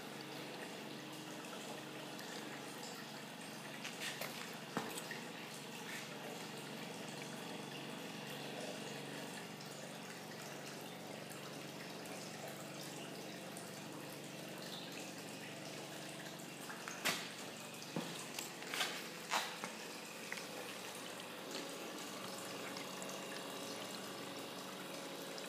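Water running slowly while gold concentrates are panned, a faint steady trickle with scattered drips and a few splashy knocks near the end, no voices.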